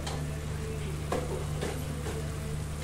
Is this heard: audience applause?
no